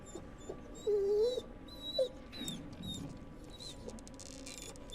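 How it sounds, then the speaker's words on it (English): In the horror video game The Devil in Me, a dog gives a few faint, high whimpering whines amid quiet ambient rustling and soft pattering. "The dog is in there. Whimpering."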